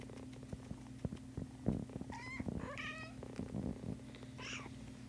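A kitten gives a few short, faint meows over a low steady hum, with soft rustling in between the calls.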